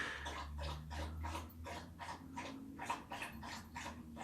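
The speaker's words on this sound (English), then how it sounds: "that is Chloe slurping water in the background" A dog drinking water, rhythmic wet lapping repeating about twice per second, a steady run of quick slurps close by, with no talking.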